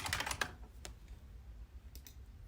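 Keys clack on a computer keyboard as a password is entered, a quick burst of close taps at the start and a couple of lighter presses later.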